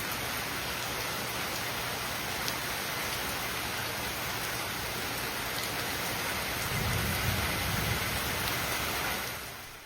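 Heavy rain from a thunderstorm pours in a dense, steady hiss, with a low rumble of thunder swelling near the end before the sound fades out.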